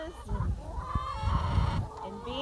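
Hens foraging on seeds and grasses inside electrified poultry netting, clucking and murmuring nearby in a busy, irregular stream over outdoor background noise.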